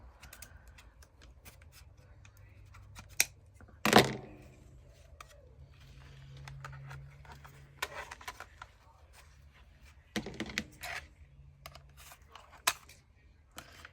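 A few sharp scissor snips and crisp cuts through stiff, multiple layers of wired ribbon with heavy-duty crafting scissors, spaced irregularly in a quiet room with faint handling noise between.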